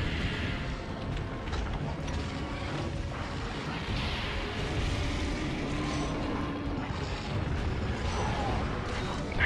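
Repeated bomb blasts in the Monster Hunter 4 game, dense and booming, land one after another across the whole stretch under a steady wash of battle noise.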